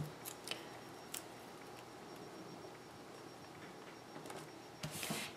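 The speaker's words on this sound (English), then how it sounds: "You can see I've cut the strip a little bit wider than the orange dot paper." Scissors cutting a strip of orange dot patterned paper for a camp scrapbook page, faint quiet snips scattered through a soft room hush, with a louder burst of cutting near the end.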